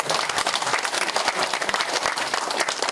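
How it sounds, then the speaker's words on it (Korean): Audience at an academic conference breaking into applause, a short burst of close, dense clapping with individual hand claps audible throughout the few seconds. "여기도 박수가 나오면 좋습니다"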